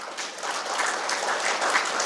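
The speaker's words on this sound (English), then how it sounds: "I think we need to give him a round of a big applause." Audience applause at a maritime skills session in Goa: steady, dense clapping from many hands that holds evenly throughout, moderately loud and a little distant, with no voices over it.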